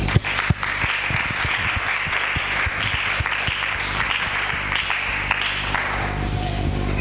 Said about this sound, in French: Acclamez d'abord pour le Seigneur.